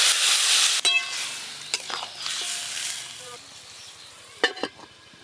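Leafy greens cooked with small fish sizzle and hiss in a pan, loud at first, then quieter, broken by several sharp clinks and scrapes of a spatula stirring.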